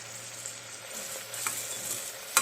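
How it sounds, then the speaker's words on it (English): Tomatoes with rock salt cook in a pan for a country chicken gravy, giving a quiet steady sizzle with a few soft stirring scrapes and a light clink at the end. "we have to cook the tomatoes till it becomes little soft"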